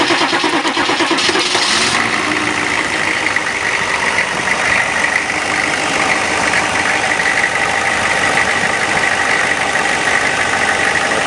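A Weasel engine cranks briefly, catches and starts, then settles into a steady, loud idle that runs continuously to the end.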